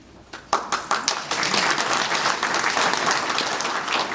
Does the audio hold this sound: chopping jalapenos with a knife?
no